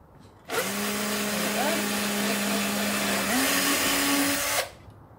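A power drill drives a screw into soft wood from an old wooden box, a loud steady whine lasting about four seconds that steps up in pitch near the end before cutting off.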